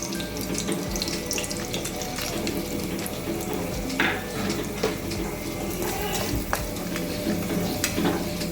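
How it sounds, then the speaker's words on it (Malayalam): Chana dal added to hot oil with green and dried red chillies for Kerala-style puli inji, a continuous dense sizzle with scattered crackles and stirring scrapes, close and fairly loud with no talking. "ഇനി ഇതിലേക്ക് കടലപ്പരപ്പ് ചേർത്ത് കൊടുക്കാം"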